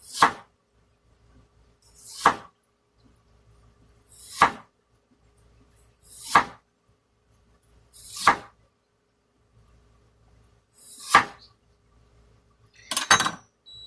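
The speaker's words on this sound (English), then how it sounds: "Now I'm going to cut fine, like thin slices." A knife cuts food into thin slices on a board in seven sharp, evenly spaced chops about two seconds apart, close and distinct against near silence, the last stroke slightly doubled.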